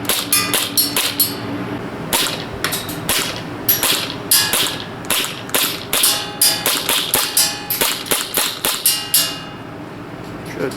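Rapid gas blowback fire from a KWA KMP9 airsoft SMG shooting 0.3 gram BBs outdoors, with sharp cracking bursts and full-auto strings repeating in clusters across the clip, loud and close, with no talk.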